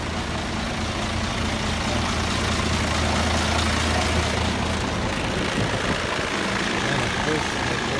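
A Mercedes tanker truck engine runs with a steady low diesel rumble and a broad noisy roar, loud and close throughout, with no clear speech over it.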